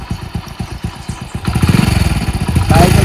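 A motorcycle idles nearby with a rhythmic chugging beat, then revs up louder and rougher partway through, with voices talking over it.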